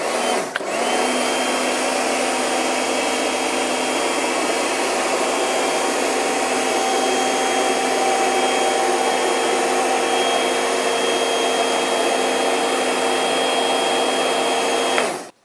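A Karcher K2 Full Control home pressure washer runs steadily while cleaning paving slabs, a loud continuous motorised whine and spray hiss that starts abruptly, holds unchanged for about fifteen seconds, then cuts off.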